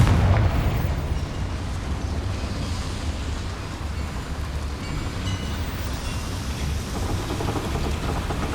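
A Confringo spell explosion in Hogwarts Legacy, a loud opening boom that settles into a dense, continuous rumbling roar lasting several seconds.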